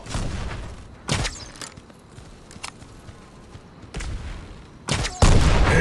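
Gunfire rings out in the mobile shooter Guns of Boom, several separate loud bursts and shots spaced irregularly, with the heaviest volley at the end over a low game background.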